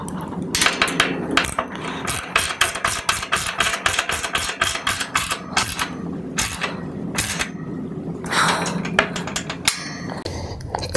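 A bolt is tightened into a wrought iron and brass bed frame, joining a leg lug and side rail: rapid runs of sharp metallic clicks and clanks, close by, with brief pauses between bursts.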